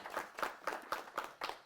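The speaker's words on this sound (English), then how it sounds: "We're going to give them a huge round of applause and thank them." Small group at a coat drive event claps in a slow, even rhythm of about six or seven distinct claps, fairly faint and without speech.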